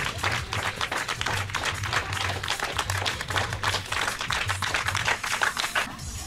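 Spectators at a golden retriever specialty dog show in Kazan clap steadily and rhythmically, a dense, moderately loud round of applause that continues without talk.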